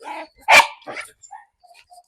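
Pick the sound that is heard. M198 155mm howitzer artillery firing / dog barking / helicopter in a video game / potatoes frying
dog barking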